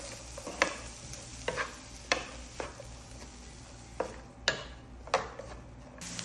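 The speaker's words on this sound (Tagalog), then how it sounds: "nilagay ko na siya ng oil at i-add ko na itong hiniwa kong onion. Ayan, at mix ko lang siya." Sliced onion fries in oil in a pan under a low steady sizzle, while a utensil knocks and scrapes against the pan in sharp, irregular strokes.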